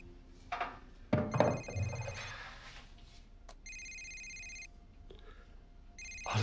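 A telephone rings in a quiet room, two bursts of electronic trilling separated by a short pause, following a brief clatter and movement; clear and fairly close, with no talking over it.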